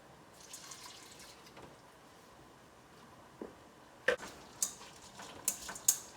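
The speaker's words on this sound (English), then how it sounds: "Just stirring with a whisk." A whisk stirs a chocolate and coconut milk mixture over a double boiler, giving faint, sparse clinks and taps against the bowl that cluster more densely in the last couple of seconds.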